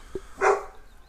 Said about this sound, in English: Okay, dog finished barking.